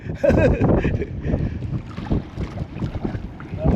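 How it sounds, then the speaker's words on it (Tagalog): Gusty wind buffets the microphone in loud, rumbling bursts, with water and boat noise beneath and no clear talk. "Kalakas ng hangin eh"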